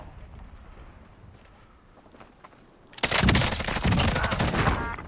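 Gunfire erupts in a Call of Duty: Modern Warfare match: a few quiet seconds of low background ambience, then a loud, sustained burst of rapid shots that carries on to the end.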